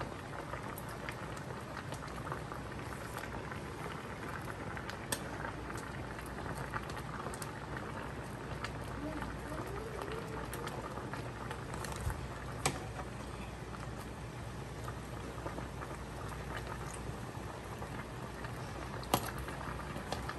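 A large pot of seafood boil bubbling hard, a steady dense roiling and popping that carries on evenly from start to finish with no voices.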